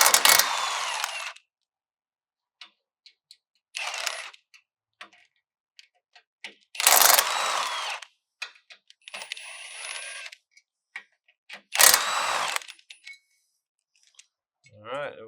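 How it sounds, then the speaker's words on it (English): A 14 mm ratchet loosens bumper standoff bolts on a Lexus GX 460, giving several short bursts of close, rapid clicking separated by quiet gaps, with a few metallic taps in between. "14 millimeter, you pop your standoff bolts out."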